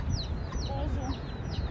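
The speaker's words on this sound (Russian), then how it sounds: "Вон там петухи тоже." Chickens clucking and chirping nearby in a steady outdoor hum in Miami, with short repeated calls overlapping throughout, roosters among them.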